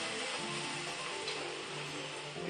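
A pan of stuck-on onions deglazed with beef stock for a Japanese brown beef curry gives off a steady, even hiss of sizzling liquid that carries on throughout without a break.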